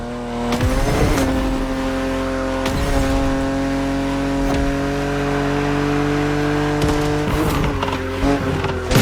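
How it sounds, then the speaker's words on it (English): A BMW Z roadster racing in The Crew Motorfest, its engine droning loud and steady with repeated gear-shift revs and passes, alone with no voices. "BMW Z models are what we call roadsters. 2-seaters made for relaxing behind the wheel, appreciating the scenery and the thrill of speed."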